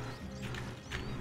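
Horse hooves clip-clopping in the video game RedM, a few quick, soft hoof thuds over a dense low in-game background, with no clear speech.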